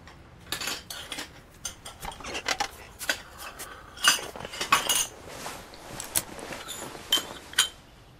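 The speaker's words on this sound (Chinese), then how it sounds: "我去收拾碗筷。" Bowls and chopsticks are gathered and cleared after a meal, producing a series of close, irregular clinks and clatters of dishware and utensils, with a few sharper knocks and no talk.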